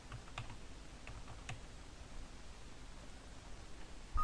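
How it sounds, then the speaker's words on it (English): Quiet, quick keystrokes on a computer keyboard as a password is entered, a brief run of soft clicks over steady background hiss. "And now I input the password."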